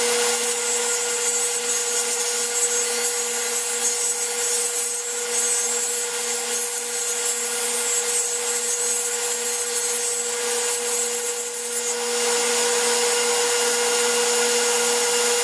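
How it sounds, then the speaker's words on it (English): Steady, loud power-tool cutting of rabbets into the wooden sides, top and bottom of a bookshelf case, a continuous motor drone with wood-rubbing texture lasting throughout, with no talking. "we're ready to start making the rabbets on the sides and the top and bottom of the bookshelf"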